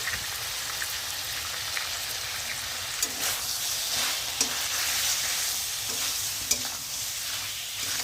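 Turmeric and salt sizzle steadily in a hot pan as meat is stir-fried, a dense close-up hiss with occasional scraping clicks from stirring throughout, no voices.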